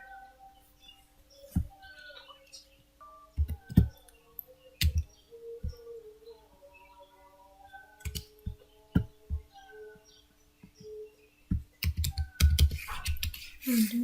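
Sparse keystrokes on a computer keyboard while a JavaScript command is entered, heard as scattered clicks and brief bursts of taps over faint background sounds, with no talking.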